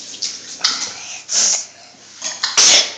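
A person sneezes close by in a home setting, a short sharp burst of breath and hiss standing out after softer snorts, sniffs and breathy noises.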